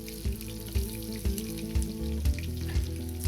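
Apple pieces fry in a hot Dutch oven with a steady sizzle and a crackle, while soft, regular clanks of a utensil stir through it.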